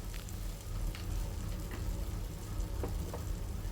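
Cooked rice for spiced masala bhaat being tossed and stirred in a hot pan gives a soft continuous sizzle with scattered light scraping clicks, close and fairly quiet, with no voices.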